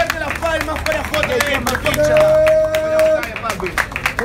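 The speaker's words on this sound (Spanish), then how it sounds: "¡Fuerte las palmas para JD!" Crowd clapping and cheering for rapper JD after his verse at a freestyle rap battle, with a host shouting over the noise and a steady, loud wash of palms.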